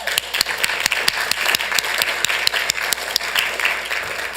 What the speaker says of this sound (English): I think that's worth a clap, don't you?